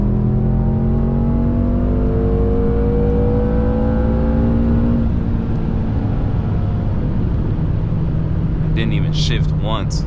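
A 600hp BMW M5 pulls hard in third gear with traction control off, its engine note climbing steadily and loud up close, then easing off before the sound shifts to a lower drone with some high chirps near the end.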